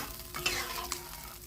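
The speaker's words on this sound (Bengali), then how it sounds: "এবার একটু কষিয়ে নেব ধনে পাতার সাথে" Fish curry with tomato and coriander leaves being sautéed and stirred in a pan, with a steady close sizzle and a couple of sharper scrapes from the stirring.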